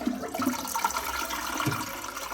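Water swirls and gurgles steadily through a newly installed temporary toilet bowl, a close, moderate rush with small bubbling pulses throughout.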